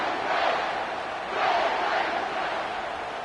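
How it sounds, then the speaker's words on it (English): A home crowd at a football game in the fourth quarter cheers and roars continuously, the dense wash of voices rising and surging in waves, loud and filling the space. "This home crowd is going nuts."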